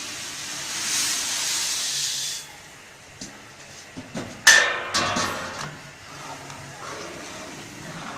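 Steam hisses steadily from a pot of mukattar cooking on a stove, then fades, followed by a few clinks and a brief louder hiss burst, no talk.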